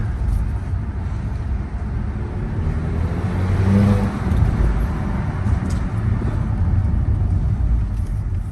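A warmed-up 2014 Audi A4 2.0T idles with a steady low rumble in a parking lot, its engine swelling briefly as it revs before settling back to a continuous hum.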